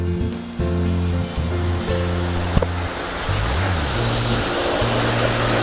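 A waterfall at Khao Yai roars as a steady broad rush of falling water, fairly loud and continuous, with music playing under it at first.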